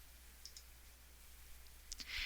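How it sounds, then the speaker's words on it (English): Computer mouse clicks during scheduling software use, a few faint sparse clicks near the start and a brighter cluster of clicks toward the end, quiet and close. "by right mouse clicking"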